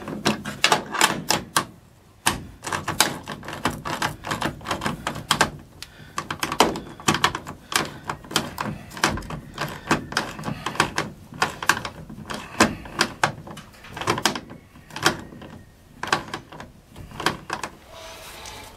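A socket ratchet tightens the clamps on a truck camper shell, giving dense rapid clicking in fast bursts with occasional sharp knocks, close by and with no talking.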